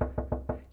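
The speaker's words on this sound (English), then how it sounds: "knocking coming from inside the story box" Four quick knocks come from inside a wooden story box, close and fairly soft, evenly spaced in a steady rhythm with no talk.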